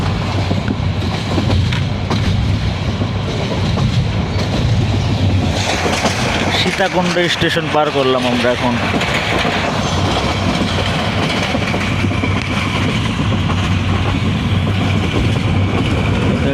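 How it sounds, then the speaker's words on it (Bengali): A moving passenger train heading toward Chittagong past the Sitakunda area rumbles steadily with clickety-clack wheel noise throughout, loud and continuous, with a voice speaking briefly over it midway. "এখন ছুটে যাচ্ছি দিগন্ত জোড়া ট্রেন হয়ে চট্টগ্রামের উদ্দেশ্যে।"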